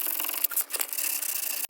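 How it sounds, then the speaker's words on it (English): A sanding block scuffs across the solid wood base of a mid-century modern dresser, a close, continuous rasping rub with brief pauses between strokes. "Scuff sanding just a bit more"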